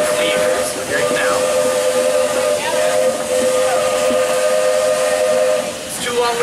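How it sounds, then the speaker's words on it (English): A steam train sounds its railroad crossing whistle, loud, near and sustained. The tones are repeated and overlap against a hissing steam background. "You're about to hear a whistle that's unique, so we'll hear it a few times on the railroad here today. It is our crossing whistle."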